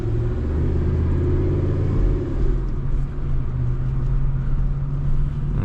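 A built-block, single-turbo Ford F150 engine with a leaking radiator drones while driving, giving a loud continuous low rumble with a steady hum and no talk.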